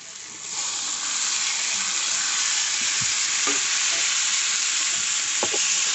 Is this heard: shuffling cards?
no